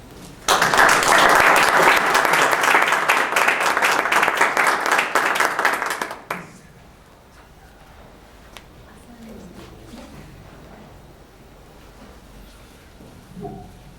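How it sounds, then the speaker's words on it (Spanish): Audience applause for Dr. Inés Jiménez Palomar at her formal admission address, a loud, dense burst of clapping that runs about six seconds and then cuts off to a quiet room. "con ustedes recibimos un aplauso a la doctora Inés Jiménez Palomar"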